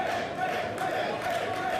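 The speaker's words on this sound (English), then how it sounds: "And listen to the crowd." Jam-packed wrestling crowd at the Cannery Casino roaring in a steady, dense wash of cheers and shouts, filling the hall continuously with no clear breaks.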